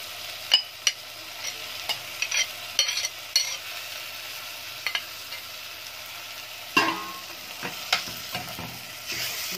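Freekeh sautéed in ghee crackles and sizzles steadily in a pan, with frequent clinks and scrapes from stirring. A busier, louder burst of stirring comes near the end. No one speaks.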